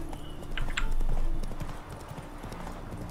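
A horse's hooves clip-clop at a steady trot while riding in The Witcher 3, moderately close, with a light ambient background.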